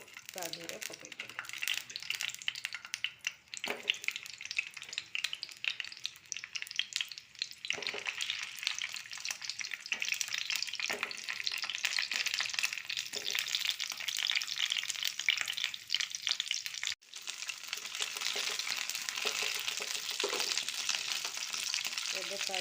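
Pointed gourd (potol) fries in a little oil in a pan, giving a continuous bright sizzle with periodic stirring scrapes and a brief dip partway through.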